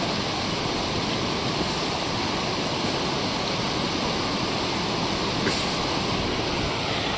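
A cascading mountain waterfall in the Western Sayan range produces a dense, continuous roar of rushing water, steady and loud with no pauses.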